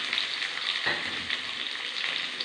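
Shallots, green chillies and curry leaves sizzle steadily in hot oil for parippu curry, a close, even crackle with a single soft stir partway through.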